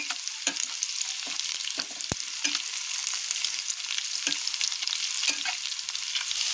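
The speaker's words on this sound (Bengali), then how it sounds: "আপনারা ভাবছেন আমি এত তেলে ভাজছি" Pangas fish deep-frying in plenty of oil makes a steady, even sizzle throughout, with light, irregular stirring taps against the pan, close by and with no talking.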